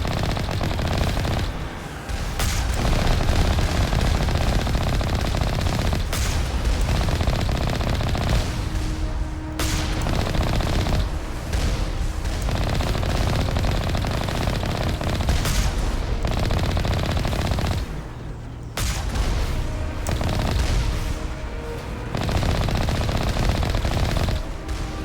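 Turret gunfire in a Mass Effect 1 mining facility, loud sustained bursts of rapid automatic shots running almost without pause, broken by brief gaps and heavy impacts.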